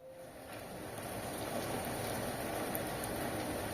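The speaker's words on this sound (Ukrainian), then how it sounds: "Дощик іде." Rain falling outdoors, a continuous close patter and hiss of drops that swells slightly in the first second and then stays steady.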